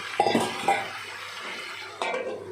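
A small splash of water poured into a pan of cooking pumpkin on a lowered gas flame, two or three brief pours with a faint sizzle and clatter between them.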